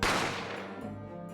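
A single gunshot sound effect from The Great Ace Attorney video game, a loud sharp bang at the start that decays into a ringing, reverberant tail over a second or so, with no other sounds around it.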